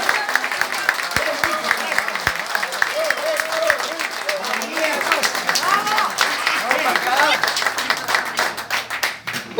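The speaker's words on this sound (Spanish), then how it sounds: "Ese aplauso cariñoso para ustedes." Warm applause from neighbours at a community gathering in Barrio Parque Adam, many hands clapping steadily and densely for a couple standing up, a nearby crowd with some murmured voices underneath, sustained for the full stretch.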